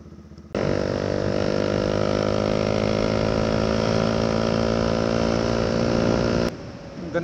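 Motorcycle engine with around 80,000 to 90,000 on the odometer, starting abruptly and running at a steady, loud, close-up idle with an even throb for about six seconds before cutting off, with no talk.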